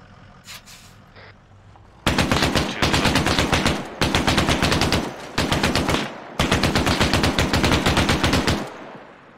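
Sustained automatic gunfire in ARMA 3 coming from the north, loud long bursts of rapid shots with brief pauses between them, following a quieter opening.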